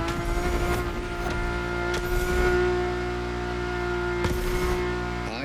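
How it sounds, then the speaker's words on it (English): A Ferrari engine drones steadily from inside the cabin, a strong sustained tone with small rises and dips in revs and brief shifts, loud and continuous with no talk. "And the car's voice sounds even better from inside."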